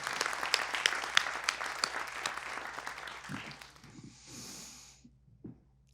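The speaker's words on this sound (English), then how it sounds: "I have asked you all to applaud one more time for all the people that were up here before" A storytelling slam audience applauds in a busy, close wash of clapping that thins out and fades, followed by a few breaths and quiet rustles near a microphone.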